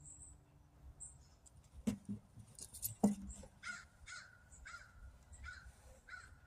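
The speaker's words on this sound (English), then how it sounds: "when the birds start singing along with me, it's cute" Several harsh bird calls, caws and chirps, ring out outdoors at moderate distance, with sharp bursts and repeated short calls over a low background rumble.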